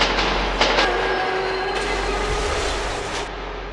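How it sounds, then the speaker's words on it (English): A ghost train rushing through a haunted subway tunnel in Metro 2033, a loud rumbling pass with brief whistling tones and rattling that slowly fades, with no voices. "Ghost Train."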